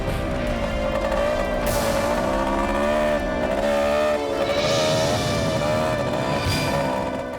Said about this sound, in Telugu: ఇక్కడ బైక్ చప్పుడు ఎక్కడి నుంచి వస్తుందిరా?